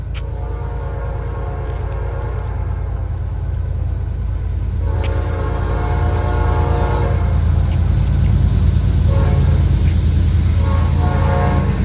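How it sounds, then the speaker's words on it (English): Norfolk Southern freight train H52, led by the Nickel Plate Road heritage unit NS 8100, rumbles loudly close by with a continuous low engine drone, while its horn sounds in several long blasts over the rolling wagons. "I caught word of NS H52 leaving Bison with NS 8100, the Nickel Plate Road Heritage unit leading"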